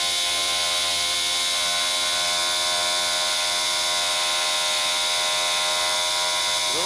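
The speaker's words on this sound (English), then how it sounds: "We're just going to take a small drill bit, and we're just going to go nice and slow." A small drill bit bores slowly into a brass carburetor jet from a Craftsman 179cc snow blower, giving a steady, close, high-pitched whine with a constant buzzing tone and no pauses.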